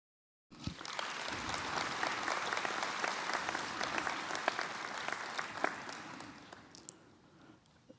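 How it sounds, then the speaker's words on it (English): An audience at a medical school white coat ceremony bursts into sustained applause after a brief silence, dense hand clapping filling the hall evenly before gradually thinning out at the end. "give those that supported your journey this far and will continue to support it a round of applause"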